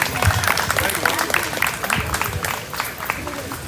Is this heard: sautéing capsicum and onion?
no